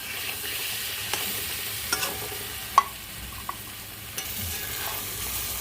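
Chhana (cottage cheese) pieces fry in a pan with a steady low sizzle, punctuated by scattered clicks and small pops, one sharper snap near the middle.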